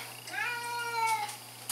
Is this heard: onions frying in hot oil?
no